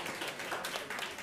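Concert audience applause at an album presentation, a dense continuous patter of many hands clapping, steady and moderately loud through the brief moment.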